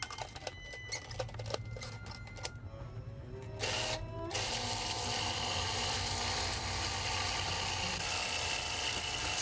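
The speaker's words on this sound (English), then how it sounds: "Now we're going to blend it till all the lumps are gone" A blender purees cooked pumpkin, starting with a choppy rattling whir that settles after a brief pause into a steady, fairly quiet continuous motor drone.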